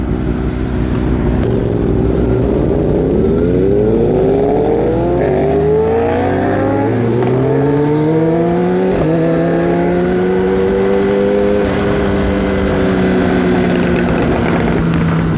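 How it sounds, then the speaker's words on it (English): A Kawasaki ZX-10R sport bike on a group ride revs hard and close, its loud engine note climbing through gears in repeated rising sweeps over steady wind rush for the whole stretch. "Dang, that bike sounds good."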